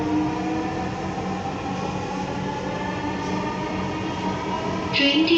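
A Dhaka Metro Rail train waits at a station platform, giving off a steady, loud hum of motors and running equipment with a tonal whine. Near the end a brief higher chime or electronic tone rises over it.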